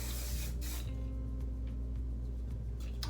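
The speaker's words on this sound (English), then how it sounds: "Hit it with a little spray." Hairspray sprayed onto styled hair, heard as two or three short hissing bursts close up over a steady low room hum, with no talking.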